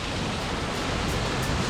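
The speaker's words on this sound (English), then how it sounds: "Waterfall number 2." Svartifoss waterfall in Iceland roars as a steady, dense wash of noise that stays even and unbroken throughout, with no voices.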